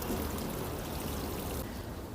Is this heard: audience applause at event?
no